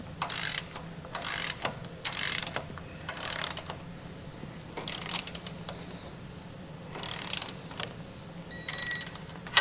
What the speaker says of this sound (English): Once you get both sides on, tighten and torque down